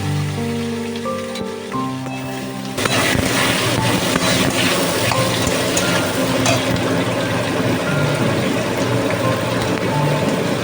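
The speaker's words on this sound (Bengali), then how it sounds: "এগুলো একটু ফোড়নে দিয়ে হালকা নাড়াচাড়া করে এর মধ্যে আমি পেঁয়াজ, আদা আর কাঁচা লঙ্কা আর রসুন দিয়ে" Onion, ginger, green chili and garlic hit hot oil for paneer butter masala and break into a loud, steady sizzle as they are stirred. Softer tonal sounds come just before the sizzle starts.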